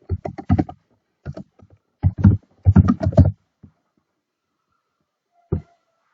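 Keys on a computer keyboard are tapped to enter a username and password, in several quick clusters of clicks separated by pauses, close and clear, with a lone tap near the end.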